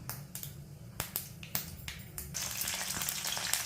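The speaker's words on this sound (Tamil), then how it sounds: "ஒரு ஸ்பூன் கடுகு போட்டுக்கணும் அரை ஸ்பூன் வெந்தயம் போட்டுக்கிறோம் போட்டு தாளித்து" Sharp popping crackles over a steady sizzle of mustard and fenugreek seeds frying in hot oil for a fish curry tempering, the spitting growing denser and louder toward the end.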